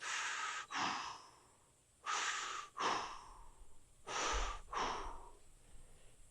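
Slow, deep breaths during a lower-body fascia exercise, three clear rounds of an audible inhale followed by a longer exhale, close and quiet with silent gaps between.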